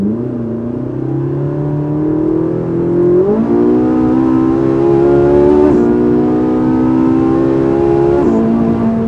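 Ferrari 458 Italia V8 driven from inside the cabin, a loud steady engine drone rising in pitch with quick steps at gear changes, continuous and close.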